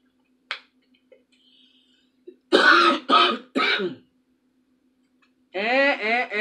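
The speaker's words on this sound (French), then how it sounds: "Je vais boire un peu, j'ai tousse" A man clears his throat and coughs in a few short, harsh bursts after scattered small clicks, then goes straight back to speaking.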